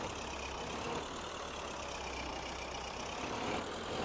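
Truck engine exhaust in a farming simulation game, a steady loud droning rumble with constant hiss, unbroken and heard alone.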